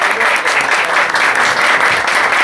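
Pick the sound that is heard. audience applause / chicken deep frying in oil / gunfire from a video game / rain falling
audience applause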